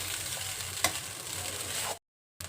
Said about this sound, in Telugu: ఆలు కోఫ్తాలు వేసిన తర్వాత రైస్ని ఈ విధంగా కలుపుకోవాలి